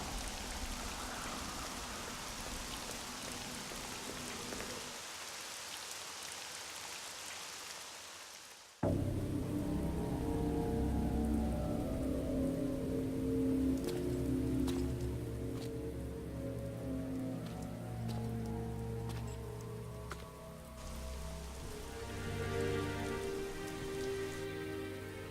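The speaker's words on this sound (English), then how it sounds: "Notice the heavy rain. I like the fact that it starts raining." Heavy rain pours in Devil May Cry 3 as a steady, dense hiss of drops hitting surfaces, continuous and loud throughout, with deeper game ambience and tonal sounds joining partway through.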